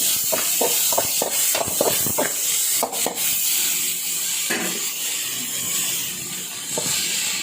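Vegetables sautéing in oil for veg biryani, stirred with a steady hiss and sizzle, broken by repeated scraping clicks of the spoon against the pan, close and continuous throughout.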